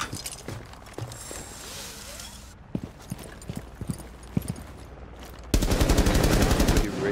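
Gunfire in the tactical shooter Rainbow Six Siege, a run of sharp irregular shots and bursts with scattered footsteps, ending in a loud sustained burst of rapid automatic fire.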